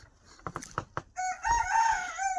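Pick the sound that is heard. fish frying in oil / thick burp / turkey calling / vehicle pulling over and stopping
turkey calling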